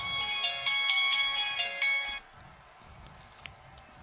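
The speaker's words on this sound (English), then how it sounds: "Sorry, was interrupted there by a phone." A phone ringtone plays as a bright repeating melodic trill for about two seconds, then stops abruptly, leaving quiet background room tone with faint voices.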